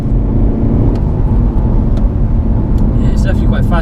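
A VW Golf GTD Mk7.5 facelift with a 2-litre TDI diesel pulls hard on kickdown, a loud, close droning engine note rising steadily from inside the cabin, with a brief voice near the end.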